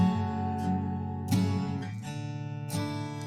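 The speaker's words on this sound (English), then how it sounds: "And then here it is and slowed down in 8 bars." A music loop time-stretched and slowed to fill eight bars, sustained smeared tones with a few soft attacks spaced far apart, steady and moderately loud, no voices.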